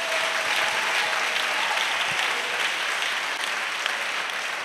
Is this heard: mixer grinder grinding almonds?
no